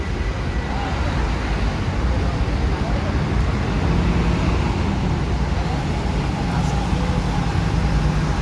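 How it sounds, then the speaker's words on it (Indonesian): A Prima Jasa intercity bus pulling out with a convoy bound for Tasik, its engine a steady low rumble amid continuous roadway traffic noise at a busy departure area. "Ini rombongan dari Prima Jasa ya, satu bus"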